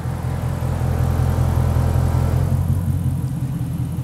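Car radiator cooling fans run steadily on a 392-engined vehicle, a continuous loud whirring drone over low engine rumble, close by and unbroken for the whole stretch with no talking.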